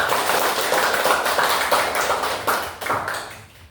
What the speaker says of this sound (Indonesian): tepuk tangan buat Gilang dong